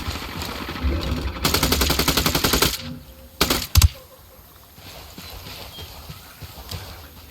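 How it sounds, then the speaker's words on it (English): Gunfire in the Ghost Recon Wildlands video game as rebels and cartel trade shots, a rapid automatic burst lasting over a second followed by a few sharper shots, with fainter distant firing afterward. "Got some rebels trading shots with the cartel."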